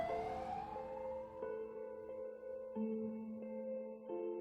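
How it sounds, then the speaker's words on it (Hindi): A wailing siren with steady tones that step in pitch every second or so, heard at moderate distance, no voices. "उसी एम्बुलेंस के पीछे पीछे हो लिया जो गोपाल किशन जी को अस्पताल लेकर जा रही थी।"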